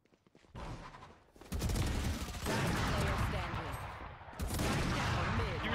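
Dense, loud gunfire erupts in the Valorant video game, with rapid overlapping shots in sustained bursts that briefly let up before another volley.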